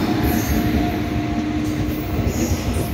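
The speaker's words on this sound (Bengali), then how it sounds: "এই যে কোটমালা থেকে আসা ট্রেন এখন পৌঁছে গেল" A train pulling into a station, loud and close, with a continuous rumbling roll, steady wheel noise and faint high squeals from the wheels on the rails, with no talking.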